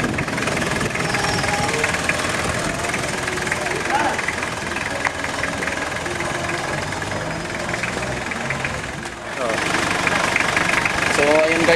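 A Mitsubishi Space Gear Delica van engine idling steadily right after starting with a freshly repaired starter motor and solenoid. The idle is a close, continuous rumble that swells slightly near the end, with voices talking over it.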